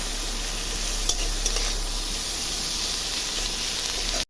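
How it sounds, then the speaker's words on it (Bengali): Chopped onion and garlic sizzle steadily in hot oil with cumin seeds in a pan, a close, continuous frying hiss with a few faint stirring clicks, no talking. "আগে আমি পেঁয়াজ আর রসুন কুচিটা দিয়ে দিচ্ছি।"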